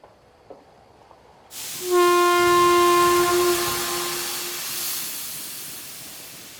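A steam train's loud whistle and hiss starting abruptly after near silence, a long sustained blast that slowly fades as the train moves, with no talk.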